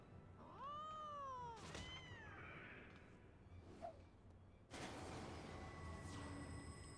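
A kitten meows in a video game, a clear rising-falling mewl, then a shorter second one, fairly close, followed by soft game noises and a noisy burst, with no talk.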